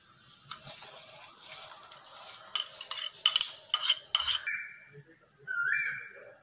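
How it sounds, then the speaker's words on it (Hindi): Rice poured into boiling water with jaggery, salt and black raisins in a pot, then stirred, giving soft rustling and scraping with a few short clinks, fairly close and quiet. "चावल डालते हैं।"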